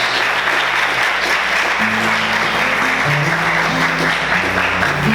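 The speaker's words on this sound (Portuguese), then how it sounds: "Você pode aplaudir Jesus." A church congregation at a Portuguese-language service applauds loudly and steadily, sustained crowd clapping with a low organ or keyboard chord progression sounding beneath it.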